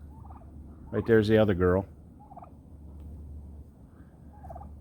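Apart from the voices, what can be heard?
turkeys gobbling on a farm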